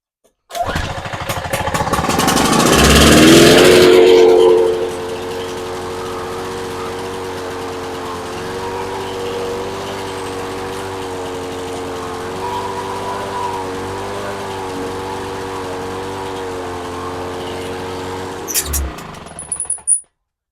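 A 2-cycle Lawn Boy lawn mower engine pulled to start, first revving loud and rough, then settling into a steady close buzzing idle for about fifteen seconds before cutting off.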